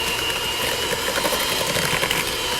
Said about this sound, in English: back with my mixer for a minute,